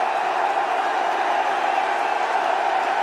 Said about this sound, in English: You can hear the crowd. They're screaming for their favourite, the little master.